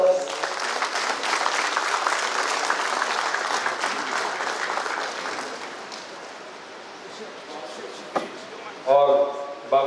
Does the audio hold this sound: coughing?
no